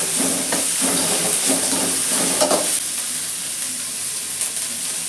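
Cabbage stir-fried in a pan for mushroom fried rice gives a steady close hiss and sizzle, with the spatula scraping and stirring through the first few seconds, then quieter frying.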